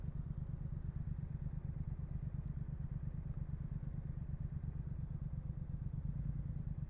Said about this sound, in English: Nice exhaust sound from it.